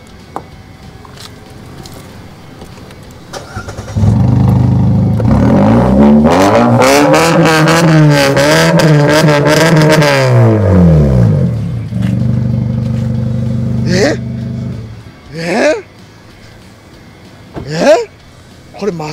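A Mazda 2 commercial car's aftermarket exhaust revs up loudly close by, its engine note rising and falling through a deep, throaty sweep before settling to idle, with people talking around it afterward.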